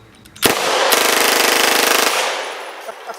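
Automatic gun firing one continuous burst of roughly 32 rounds in just over a second, a loud, dense rattling roar that cuts off abruptly, with no talking.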